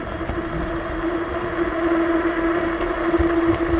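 FreeSky EuroStar Ultra electric bike with full suspension accelerating on throttle alone, giving a steady motor whine with a clear sustained tone over rushing wind and road rumble that swells slightly as speed builds.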